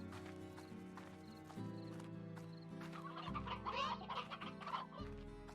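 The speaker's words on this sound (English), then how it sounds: "I love the fact that you can just hear all the chickens as you walk by." Chickens cluck and squawk in a Slime Rancher farm area, several birds chattering close by over a steady game soundscape, with a few sharper clucks bunched in the middle.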